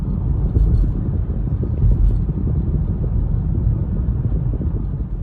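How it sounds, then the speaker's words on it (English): Tire and wind noise fill the cabin of a 2016 Acura MDX Tech AWD being driven, a steady, fairly loud low road roar with a faint airy hiss that continues throughout. "Tire and wind noise are pretty good, no complaints there."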